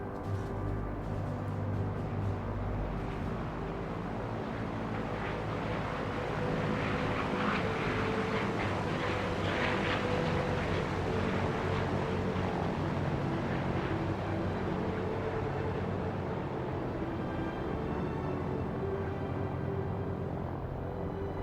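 The restored WWII warbird That's All Brother drones past at an air show, a steady low engine rumble that swells slightly in the middle and then eases, heard from a distance with no talk.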